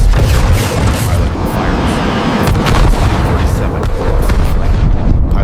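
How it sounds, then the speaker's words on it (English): Cannon fire from Su-37 fighter jets in an aerial dogfight: a loud, dense, continuous barrage of rapid bursts and booms with no pauses and no voices. "The Su-37s close in, cannons blazing."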